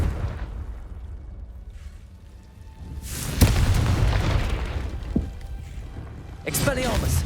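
A Confringo blasting spell in Hogwarts Legacy goes off with a loud, sudden boom followed by a rumbling roar, then a second burst a few seconds later, a voice speaking around the blasts.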